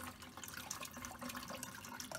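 Tap water runs steadily over a hard-boiled egg being peeled by hand, a soft continuous splash and trickle heard up close at low level with no speech.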